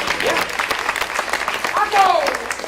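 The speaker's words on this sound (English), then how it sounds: "That deserves a round of applause." Audience applause in Buffalo at a live music showcase for a touring band from Ghana, West Africa, steady clapping of moderate loudness that runs the whole time with voices mixed in and cheering swelling near the end.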